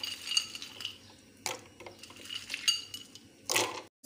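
Ice cubes going into a brownie milkshake with coffee, sugar and milk, clinking and clattering against a container in several quick bright chinks, close and fairly quiet, with no talk.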